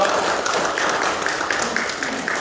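Applause for a church elder at a logistics center opening ceremony, steady mass clapping held for a couple of seconds at a moderate distance.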